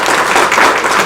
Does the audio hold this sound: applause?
yes